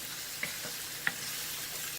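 Tomatoes and onion with spices softening in a frying pan, a steady low sizzle with two brief stir clinks, no voices.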